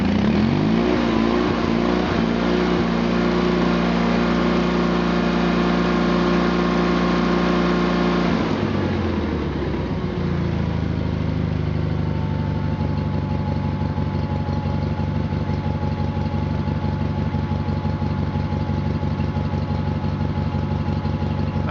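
John Deere 318 lawn tractor engine warming up, first a steady loud idle that drops abruptly to a lower, smoother idle partway through, then a constant engine drone close by for the rest.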